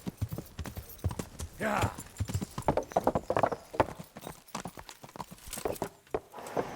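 Horse hooves clip-clop at a walking pace in the medieval game Kingdom Come: Deliverance, close and uneven, with a brief whinny and a voice speaking over the steps.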